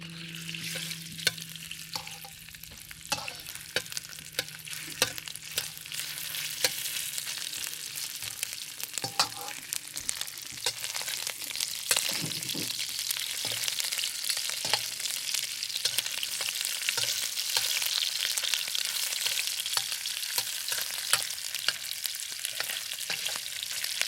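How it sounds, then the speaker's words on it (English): Shrimp frying in oil in a pan for a cucumber stir-fry, a continuous hissing sizzle with frequent spatula scrapes and knocks throughout, close up and without speech. "I'm going to cook the shrimp first. Put some oil in it. Then I put all the shrimp in it."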